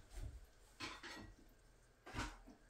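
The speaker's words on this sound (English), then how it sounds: "So a lot of times I just stir it up." Eggs being stirred in a pan on a farm breakfast stove, with a few distinct scraping, clinking strokes of a utensil against the pan, spaced apart over a low background.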